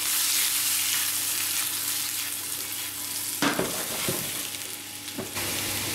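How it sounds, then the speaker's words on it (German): Garlic fries in a pan with a steady, dense sizzle throughout, broken by a few brief stirring scrapes near the end. "wenn der Knoblauch schön braun gebraten ist"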